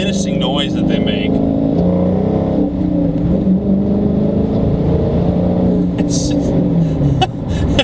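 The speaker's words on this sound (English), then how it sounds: "Challengers and just Dodge, I guess Mopar in general, just has this stupid, angry, just menacing noise that they make" A 2016 Dodge Challenger's engine growls loudly and close, rising and falling through revs with a deep, rough tone. A voice talks over it at times.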